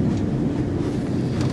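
The motor of a Dutch statenjacht runs as a steady, loud, low drone with some wind buffeting, continuous throughout.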